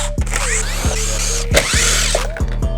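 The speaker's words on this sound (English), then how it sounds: "here's our King Chrome bolt removal tool" A King Chrome bolt removal tool works bolts loose on a car, giving a loud mechanical whir with rhythmic ratcheting clicks and squeals that repeat several times, close up.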